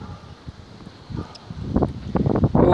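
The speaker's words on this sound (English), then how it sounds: "Jeez, it's so freaking windy." Strong wind gusting against the microphone outdoors, low rumbling buffets that start faint and grow louder and more frequent toward the end, with no speech.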